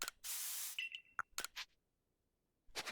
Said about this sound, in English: so it's Stealth Spray